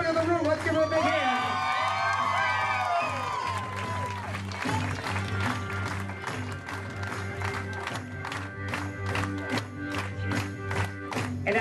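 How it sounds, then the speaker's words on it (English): Wedding guests at a country club reception cheer, whoop and shout with steady applause, the crowd noise building into rhythmic group clapping near the end. "Please keep your applause going"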